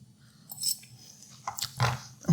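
Someone chews a mouthful of spaghetti aglio e olio, with a few soft, close bites and crunchy chewing sounds over quiet kitchen background.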